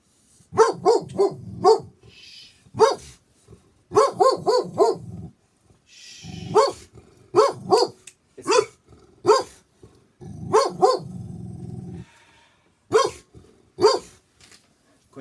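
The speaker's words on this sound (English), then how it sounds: "It is the tiniest dog you have ever seen." A very tiny dog barks in quick, sharp bursts, several yaps clustered together with short pauses between groups, fairly close and clear, with a little low growling mixed in and no talking.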